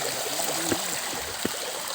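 A mountain stream along a steep hiking trail flows with a steady, soft rushing and trickling, continuous and fairly faint, with a couple of small knocks over the water.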